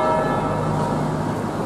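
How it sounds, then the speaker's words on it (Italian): A church bell rings at an astronomy park in Almenno San Bartolomeo near Bergamo, loud and close, with a dense washing resonance that carries over outdoor background noise. "Guarda un po' la campana"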